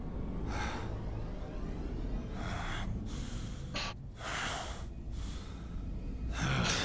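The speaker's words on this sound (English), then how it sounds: "Why is he breathing so hard?" Heavy, ragged breathing from a character in the action game Kingdom Hearts 3, a series of sharp gasps and snorting exhales repeating every second or so over a low rumbling background, close and fairly loud.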